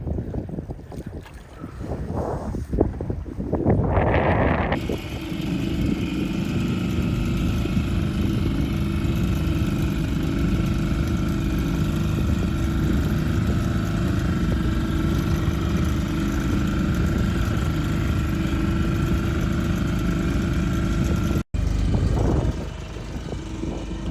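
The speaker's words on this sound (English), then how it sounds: "Wind and swell were beginning to build" Steady wind and building swell at sea aboard a small sailing boat on a wet day off Dartmouth, a loud continuous rushing roar with heavy microphone buffeting throughout, broken briefly by a sharp knock near the end.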